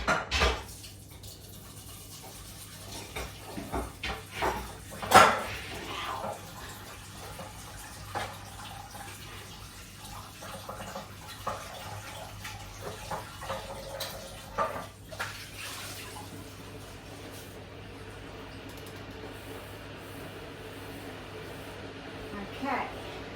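A large saucepan is scrubbed under running water, with intermittent clanks of metal in a sink and someone talking over it.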